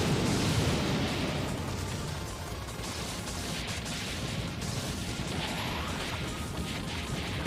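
Buildings and enemies blow up in the DoDonPachi Resurrection arcade shooter, a dense, unbroken roar of crashing explosions and blasts filling the whole stretch at steady loudness, with no voice over it.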